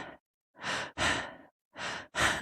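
Four quick, shallow breaths demonstrated up close, each a short airy burst of about half a second separated by brief pauses, with no talking.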